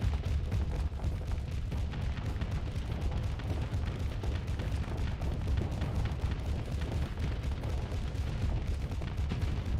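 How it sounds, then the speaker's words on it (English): Enemy ships launch missiles during space combat in the Starsector video game, a dense, continuous low rumble of booms and blasts that stays loud and steady throughout with no voices. "all they can do is shoot missiles at me. Which they're doing."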